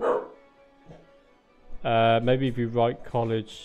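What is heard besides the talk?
dog barking in Cities: Skylines video game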